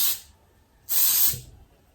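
Cooking spray from an aerosol can hisses in two short bursts while making Halloween Rice Krispies ghost pops, a brief spritz followed by a longer, louder spray about half a second later, close up and with no talking.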